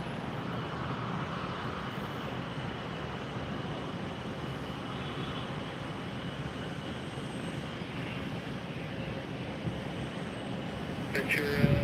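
Aircraft at Tampa airport, heard from a distance during takeoffs. A continuous broad jet roar holds steady throughout with a slight rise at the end, with no talk heard.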